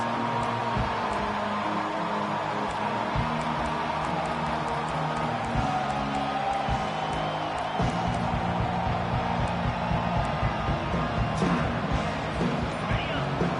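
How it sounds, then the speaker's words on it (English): Stadium crowd in a college football video game, LSU vs Oklahoma, a dense continuous roar of cheering spectators heard at a steady level throughout, with occasional louder swells and a commentator talking faintly over it. "Big 3rd down as the crowd gets behind this defense."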